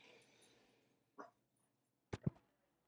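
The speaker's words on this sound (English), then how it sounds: "what are you barking at?" A couple of soft, distant dog barks, short and muffled, separated by quiet pauses.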